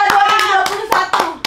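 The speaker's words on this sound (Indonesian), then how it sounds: "Tepuk pramuka." A few sharp, close hand claps in a quick rhythmic pattern, tepuk pramuka scout-style clapping, sounding over a sustained tonal background, with distinct loud smacks spaced through a short burst.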